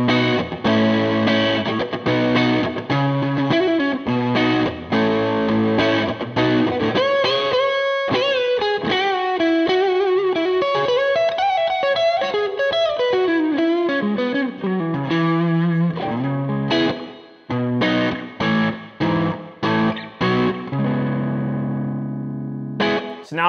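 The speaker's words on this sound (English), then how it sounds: "Let's hear the middle pickup now with that same setting." An overdriven Fender Stratocaster on its middle pickup plays chords and a melodic lead line with a gritty, slightly chorused tone, loud and close, ending in sharp staccato hits.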